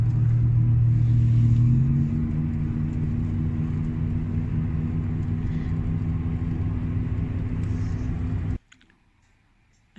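Tour vehicle on a North Rim road day tour, a steady loud engine rumble and road drone running continuously, then cutting off abruptly near the end.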